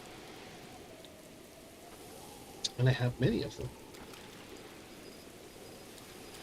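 Steady, soft rain in Zelda: Breath of the Wild, a continuous hiss running throughout beneath a short burst of nearby talk in the middle.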